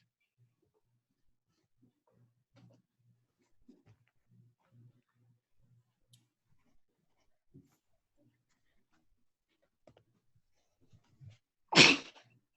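One sharp, loud human sneeze bursts out near the end, following a long stretch of faint scattered low thumps and shuffles in a quiet room.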